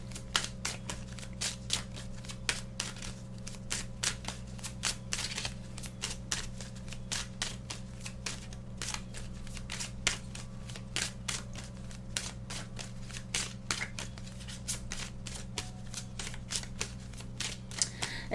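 Tarot cards are shuffled steadily for a long stretch, a quick run of crisp riffling flicks close by over a faint steady hum.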